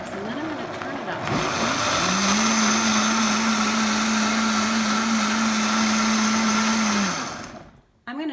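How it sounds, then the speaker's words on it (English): A Vitamix blender blends almond milk, starting with a low whir before the motor ramps up to a loud, steady, high-pitched roar that holds for several seconds. It then cuts out abruptly into near silence. "you're just kind of warming up the Vitamix, and then I'm going to turn it up"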